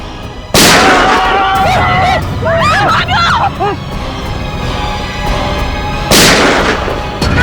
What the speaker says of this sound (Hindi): उसने मेरे ऊपर पहले गोली चलाई